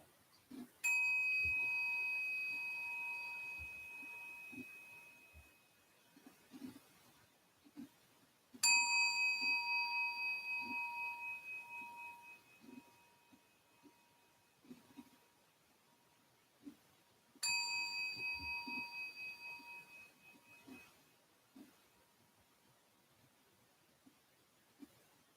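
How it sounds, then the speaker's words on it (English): A meditation bell is struck three times, roughly eight seconds apart, each strike ringing out clearly and decaying slowly in a shimmering, pulsing tone over a quiet background. "listening to 3 sounds of the bell"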